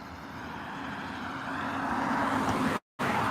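A car passes on the road, a soft broadband whoosh that builds gradually and stays faint and distant before cutting off abruptly.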